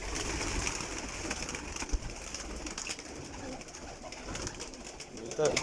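Pigeons coo softly and repeatedly in a breeding loft setup, the gentle throaty calls rising and falling under a low background hum, with a person speaking briefly nearby.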